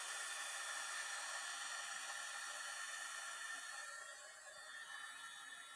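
An embossing heat tool blows hot air to set embossing powder on pearlescent specialty paper, a steady, fairly quiet airy hiss and whir that dips slightly near the end, with no talking.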